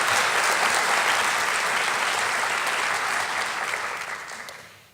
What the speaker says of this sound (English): Another round of applause for Jennifer Brewer and Kevin Harris.